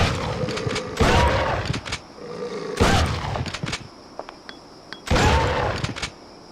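Three heavy shotgun blasts from Resident Evil Outbreak File 2, fired at close range at hyenas, each a loud booming report with a ringing tail, spaced about two seconds apart.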